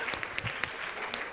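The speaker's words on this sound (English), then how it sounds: "Another round of applause for the Mercurial CAO" Audience applause at a business economic outlook and CEO forum, a steady wash of many hands clapping at moderate volume, with a few sharper claps standing out and no voices over it.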